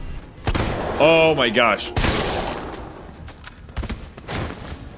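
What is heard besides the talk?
gunfire from the player's gun in the video game Resident Evil 3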